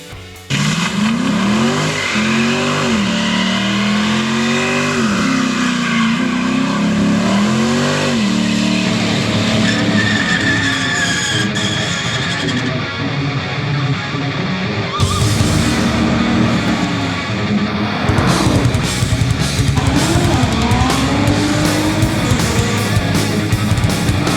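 A Ford Mustang engine revs loudly during a performance test, climbing and dropping in repeated pulls with some sharper bursts later on, and no voices.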